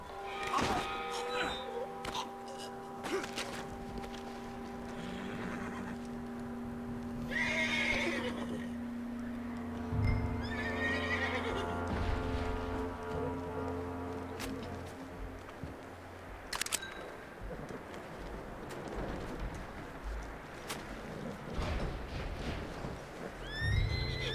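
A horse whinnies and snorts in Red Dead Redemption 2 amid clicking, shuffling game sounds and low tonal hums, with scattered sharp clicks throughout.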